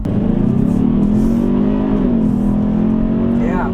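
A 2022 Kia Stinger GT-Line accelerates hard, its engine note loud and close, rising and holding as a steady roar through the whole stretch.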